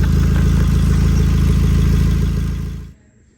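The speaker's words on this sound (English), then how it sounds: "So this is the sound before the work, before the repair." Car engine with an exhaust leak, before repair, running loud and close with a steady rough low drone and rapid pulsing, then cutting off near the end as it is switched off.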